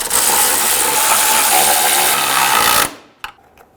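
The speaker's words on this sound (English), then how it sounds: "With all the bolts started, go around and snug them down." A power tool whirs loud and close as bolts are snugged down during starter replacement on a 2011-2014 Hyundai Sonata, running steadily for about three seconds before cutting off, followed by a few faint clicks.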